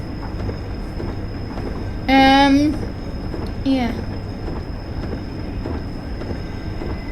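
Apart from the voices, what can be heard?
train running on rails in Train Sim World video game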